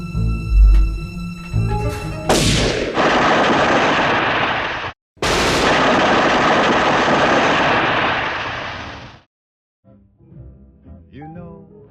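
Bursts of gunfire and explosive blasts from a GTA 5 game scene, loud and dense in two long volleys separated by a brief gap, followed by quieter sounds.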